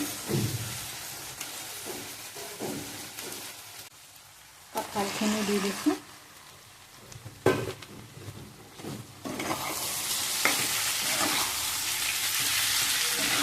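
Ginger-garlic paste sizzles and fries in a wok with occasional stirring clinks, growing into a steady, loud hiss toward the end while a voice speaks early on.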